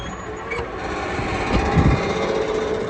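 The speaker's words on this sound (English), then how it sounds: "There, I'm racing the engine, or racing the motor with the" A Massey Ferguson 35e tractor engine revved with the foot throttle in neutral, a steady mechanical drone with rising surges near the middle and some rattling sheet metal, close and continuous, no talk.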